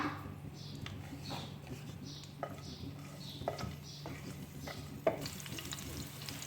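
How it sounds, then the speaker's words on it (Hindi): Two chopped green chilies sautéing in olive oil in a pan, a soft continuous sizzle with light, regularly spaced stirring scrapes and a clink near the end. "अब हम इसमें सबसे पहले डालेंगे 2 कटी हुई हरी मिर्च और इसको 1 मिनट तक इसी पे सौटे होने देंगे"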